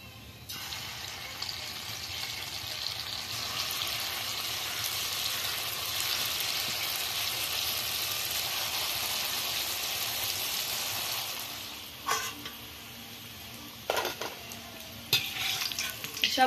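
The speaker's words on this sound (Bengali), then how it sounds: "এইভাবে বাকিগুলো ভেজে নেব।" Pieces of semolina dough for motichur laddu fry in hot oil with a steady, broad sizzle for about eleven seconds, then the hiss drops away and a few utensil clinks and stirring knocks follow.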